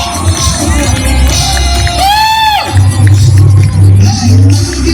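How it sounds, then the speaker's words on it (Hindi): Stadium crowd at a business event in Talkatora Stadium, loud, dense cheering and shouting with whoops and a rising whistle-like tone mid-way, over booming low music. "जोरदार तालियां दें हमारे सभी स्मैक मेंबर्स के लिए"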